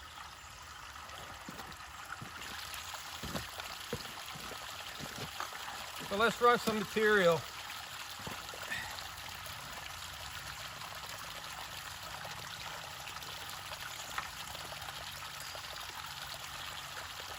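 Water runs steadily over a gold prospecting sluice set at a 12-degree angle, a constant trickling wash with someone talking over it and a brief splashing burst midway.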